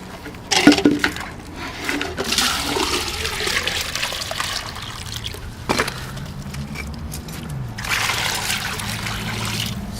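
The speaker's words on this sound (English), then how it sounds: "So we first put the water in the bucket" Water pours and trickles into a bucket, filling about six liters for a DIY hydroponic plant setup, a steady splashing flow with brief louder bursts and a slight rising tone as the bucket fills.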